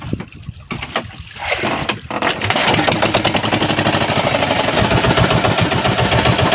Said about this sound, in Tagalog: pandar tayo ng makina